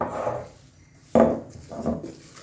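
A cloth is wiped across a marble countertop in a home kitchen, giving soft rubbing strokes and a sharper scrape partway through, close and fairly quiet with no talking.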